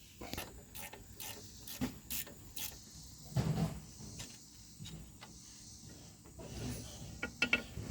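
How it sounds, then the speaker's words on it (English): Wrench work on a brake hose bolt of a 2005 Ram 2500: scattered metallic clicks and ratcheting taps with a few louder knocks, close by and moderately quiet, with no speech. "I'm gonna pop this bolt loose"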